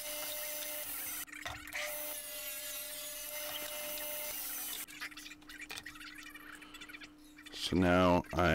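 Leftover wood is sawn into pieces for the top and bottom of a two-chamber cajon drum, a steady close rasping cut with a faint hum that breaks off briefly and ends in a louder, harsher burst.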